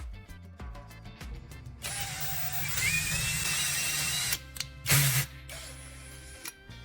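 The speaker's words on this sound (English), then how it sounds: "Mark the center at the top and drill a hole straight down." Power drill boring a centered hole straight down into the top of a wooden stick clamped in a vise, a high whirring run of a few seconds between clicks and handling knocks, close and loud.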